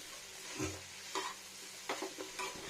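Raw pumpkin cooked with fish roe frying in a pan, a faint sizzle broken by a few short scraping strokes of stirring.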